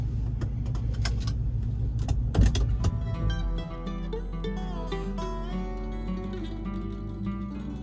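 A 1970 Chevrolet Camaro SS gets ready for a drive. Close clicks and rattles inside the car give way to a deep, steady, rumbling engine idle.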